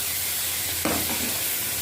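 Steady sizzling of tempering spices frying in hot oil for moong dal, with a brief louder burst of crackle partway through; no voices.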